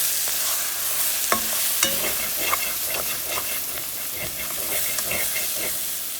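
Ground garlic paste sizzles steadily as it is stirred into hot oil in a pan for mutton curry, a continuous close frying hiss broken by a few sharp spoon scrapes and clinks.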